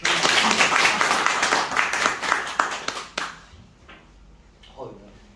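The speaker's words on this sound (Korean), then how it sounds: "박수로 받으십시오." Applause and clapping from an audience welcoming a university professor to the stage at a golf lecture, loud and dense for about three seconds before breaking off into scattered claps and faint voices.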